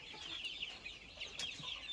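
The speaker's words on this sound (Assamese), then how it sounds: "এইখিনি কয়লাৰ মুৰ্গী হয়" Forty-day-old broiler chickens clucking softly in a steady chorus, a dense flock murmuring close by with a few sharper calls rising above the rest.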